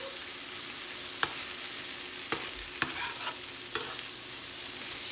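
Huevos a la mexicana with tomato, onion and serrano chile frying in a large pan, a steady close sizzle broken by a few sharp spatula stirs and scrapes, with no voices.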